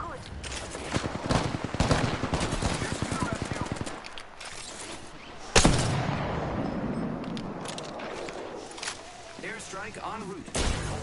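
Gunfire in Apex Legends: rapid automatic bursts rattle densely for several seconds, then a sharp loud blast followed by scattered shots and rumbling, with voices speaking over the action.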